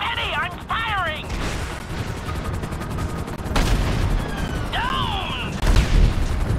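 Gunfire in Grand Theft Auto 5 rattles in rapid bursts amid chaotic action, with whooshing sweeps, shouting voices and louder blasts punctuating the noisy scene.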